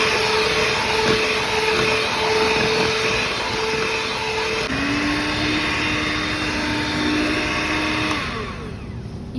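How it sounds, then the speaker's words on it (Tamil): An electric mixer whirs through sponge cake batter mixed with cake gel, a continuous close motor drone whose pitch drops partway through before the machine winds down near the end. "இப்போ கேக் ஜெல் போட்டு நல்லா பீட் பண்ண போகிறோம்."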